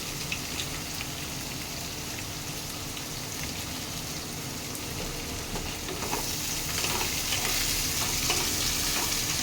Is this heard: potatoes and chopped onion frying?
yes